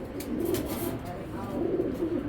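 A racing pigeon coos close by in soft, low throaty bursts, two cooing phrases over a continuous murmur, with someone speaking nearby.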